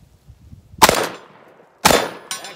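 Two loud shotgun blasts from a Century Dynamics shotgun loaded with Fiocchi ammunition, each a sharp crack with a ringing tail, about a second apart, followed by a third shorter burst at the end.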